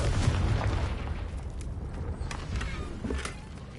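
A Confringo blast spell goes off in Hogwarts Legacy, a dense rumbling explosion burst with crackling debris that fills the whole stretch and tails off slightly at the end, with no talk.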